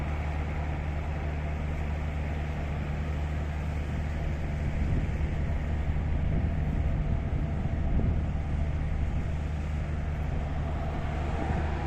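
Blowers on Rovos Rail Class 5E1 electric locomotives at Kimberley station hum in a steady, unbroken drone with a low tonal whine, heard nearby, with no voices.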